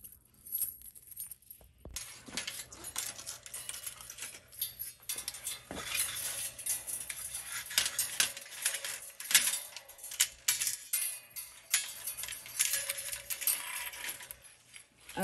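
Small metal S-hooks being handled for hanging garden lights on shelves give light clinks and jingles close by, scattered irregularly throughout, with no talk.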